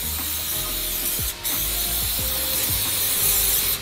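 A short hiss of an aerosol cooking spray onto a waffle iron over steady background hum, with a brief pause partway through.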